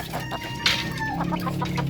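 Oriental chickens clucking close by in a backyard coop, with a sharp squawk partway through and a steady low murmur of fowl underneath.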